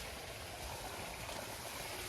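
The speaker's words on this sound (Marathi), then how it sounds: "हे चालू आहे पाणी" Water runs from a pipe into a farm field in a steady, even rush with a gurgling texture and no talking.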